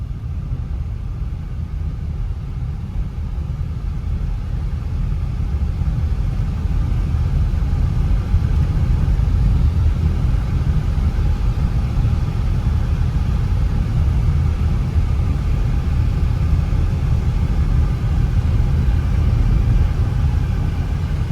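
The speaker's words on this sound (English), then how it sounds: "I'm going to bring it over some loose gravel. I'm going to go ahead and slow down a little bit." A 2022 Ford Edge SEL AWD SUV rolls slowly over loose gravel. A steady, loud low rumble of tires and engine builds slightly and holds throughout, with no talking.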